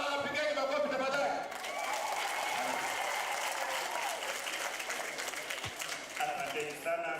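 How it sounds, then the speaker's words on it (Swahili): An audience at a polio vaccination campaign launch event gives a warm round of applause, a dense, continuous clatter of many hands that eases slightly midway and carries on with faint crowd voices underneath. "Watu wanapigeni makofi tafadhali"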